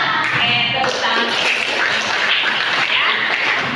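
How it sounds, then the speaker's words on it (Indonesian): A classroom of students clapping hands together in a school setting, a dense, steady wash of many palms slapping at once, sustained and close throughout with no talk over it. "Tepuk tangan"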